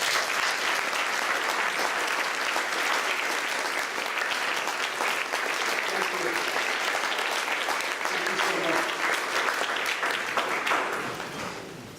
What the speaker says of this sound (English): please a round of applause for Joe Kaufman.